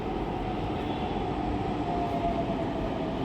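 A Pune metro train in motion, giving a steady loud rumble with a faint tonal whine, continuous throughout with no talking.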